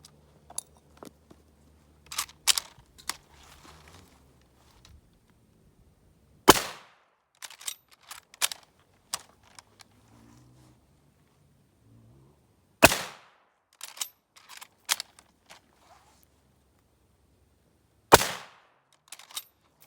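Gunfire from a Mauser K98k or Type 38 Arisaka rifle: three loud, sharp single shots spaced roughly six seconds apart, with quieter clicks and handling noises in between.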